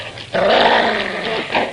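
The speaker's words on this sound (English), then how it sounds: "Dog!" A dog growls loudly and continuously at close range for over a second, a low rumbling snarl that rises and swells with no talk over it.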